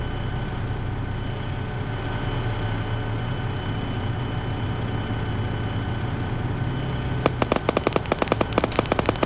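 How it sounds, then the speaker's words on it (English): GPMG machine gun firing in an Arma military game battle, rapid sharp bursts cutting in near the end over a steady rumbling engine and battlefield background. "Ash also engaging with that GPMG"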